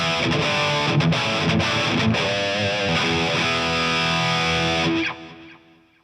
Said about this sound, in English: I've got a tube screamer emulation in the drive pedal, a delay and a reverb on,